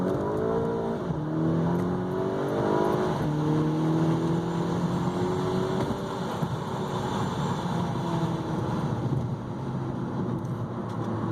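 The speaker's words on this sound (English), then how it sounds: "Taking the car for a little test drive, making sure that everything working good" A VW MK6 car on a test drive over rough Hawaii roads, with a steady engine drone that climbs as it accelerates through gears, plus constant road and wind noise.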